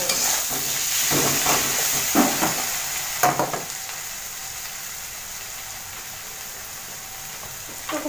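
A paste of ground cumin, ginger and green chilli is sautéed in a pan, a close, steady sizzle with several stirring scrapes early on, then settling into an even hiss, no voices.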